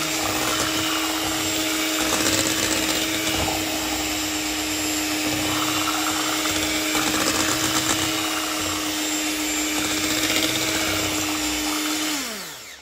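An electric mixer whirring steadily as it blends a vanilla cream mixture, a loud continuous motor drone that holds its pitch before winding down at the end.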